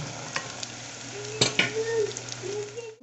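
Boiled prawns tipped into softened frying onions in a pan, a constant sizzle broken by a sharp clatter as they drop in, then a few quick stirring scrapes.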